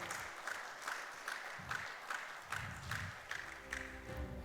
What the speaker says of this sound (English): One last time, a huge round of applause for the entire panelists